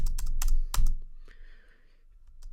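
Computer keyboard keys clicking during a Geometry Dash session, a quick burst of loud, close taps followed by a few sparse, fainter clicks.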